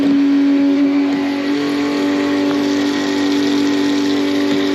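A tractor engine runs at a steady hum close by, a constant drone with a strong tonal note and no rise or fall across the few seconds, and nobody speaks.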